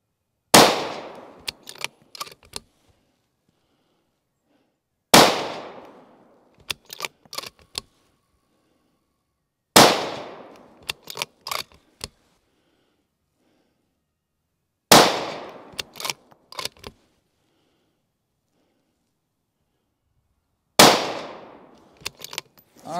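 Five sharp, loud rifle shots from an Accuracy International AT-X chambered in 6BR, fired as a group at about five-second intervals, each followed by a short echo and mechanical clicks.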